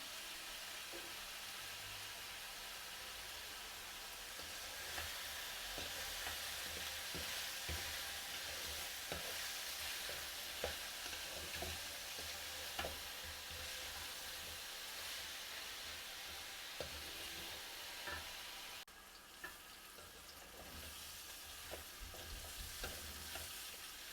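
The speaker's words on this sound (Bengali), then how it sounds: "সিম আলুগুলো ভালো মতো ভাজা ভাজা হয়েছে" Flat beans and potatoes with green chillies frying in a pan, a continuous close sizzle with repeated scraping stirs and small knocks throughout, no voices.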